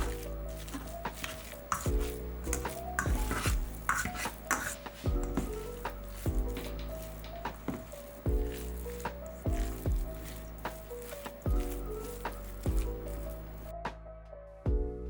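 Ground pork burger mixture is mixed by hand, giving repeated soft wet squishing and slapping in a steady rhythm, close up under background music.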